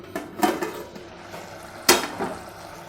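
Aloo matar pulao with potatoes, peas and spices is mixed gently in a pot, giving a few close spoon clinks and soft scrapes against the metal, two of them standing out.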